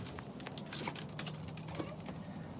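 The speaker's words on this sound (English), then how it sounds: "I'll come get the door for you so you don't gotta juggle your keys." Keys jangle and rattle continuously in close, bright metallic bursts over a low steady background hum.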